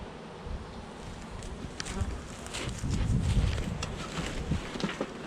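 Bees covering the top of a hive super make a dense, close buzzing that swells toward the middle, with individual insects flitting near the microphone and no speech.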